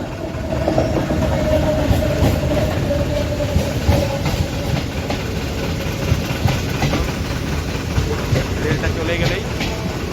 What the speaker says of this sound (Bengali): রেল পরিষেবা আসছে, দেখো রেল